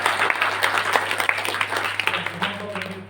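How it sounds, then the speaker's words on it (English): A brief burst of clapping from an audience at an entrepreneurship training session, many hands striking together in a quick, uneven cluster close by, with voices murmuring underneath. "And clap once for it."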